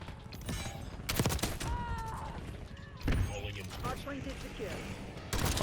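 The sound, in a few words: rapid gunfire from Kilo 141 rifle, Black Ops 6 video game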